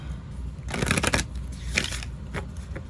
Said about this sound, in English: I am gonna shuffle these up one more time